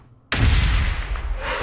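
A grenade explosion in the video game Warhammer 40K Gladius: a single loud, sudden boom that hits hard after a brief quiet moment, then rumbles and decays over the following second.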